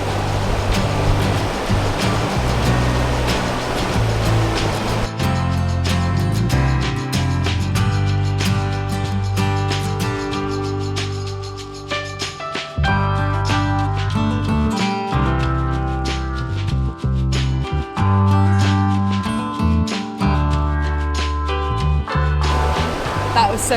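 Choppy sea waves on a Cornwall beach on the south coast give a constant, loud wash and roar close by, with crashing surges throughout and no talk.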